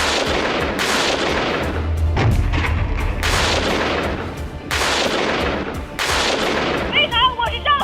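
Tank cannon fire during an armored exercise by a women's tank crew in the Xinjiang Military Region: repeated heavy booming blasts roughly every second or so, loud and close, with rumbling engine noise underneath and a brief radio-like chirp near the end.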